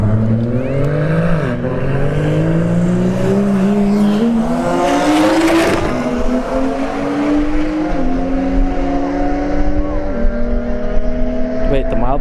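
A Subaru BRZ and an unbadged BMW launch side by side at a street drag strip, engines revving and climbing through gears in loud, rising overlapping whines with audible shift drops, close and continuous, with a commentator talking over them.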